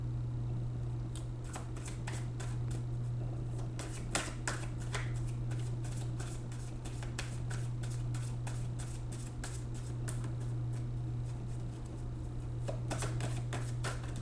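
Tarot cards being shuffled by hand in a quiet room, with soft repeated riffling and flicking over several seconds and a steady low hum behind.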